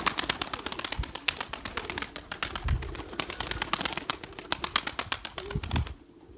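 Pigeons in a coop, with tumbler, messenger and Mardin breeds kept there, make a close, busy stream of rapid clicks, coos and wing flutters that runs nearly unbroken for several seconds before stopping abruptly.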